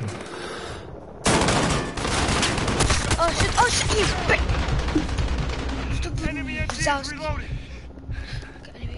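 Dense gunfire from the video game Call of Duty Modern Warfare, rapid bursts and shots crackling almost nonstop while voices shout over the fight.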